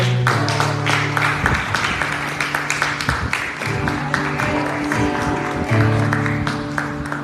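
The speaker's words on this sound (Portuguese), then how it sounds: "Aplauda o Senhor." A church congregation applauds during worship, steady crowd clapping over a sustained organ or keyboard tone, with music carrying underneath the whole time.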